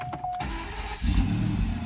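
A Mercedes S600 W140 cranks after a starter repair: a short whirring tone from the starter comes first, then the engine catches about a second in and settles into a steady, louder low rumble close by.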